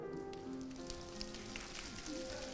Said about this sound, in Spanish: parece que ha empezado a llover